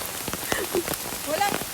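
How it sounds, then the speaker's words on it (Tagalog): Rain patters on surfaces along the Pineapple Dam Nature Trail in Shing Mun Country Park, a soft, quiet hiss with scattered drops and faint voices nearby. "Nabutan kami ng ulan."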